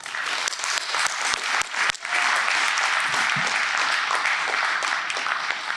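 An audience at a college ceremony applauds, producing dense, steady clapping that carries on loudly throughout, with a few sharper claps standing out near the start.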